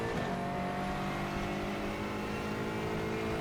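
Race car engine in Gran Turismo 4 at Laguna Seca, a steady loud drone with layered harmonic whine held throughout, no talk.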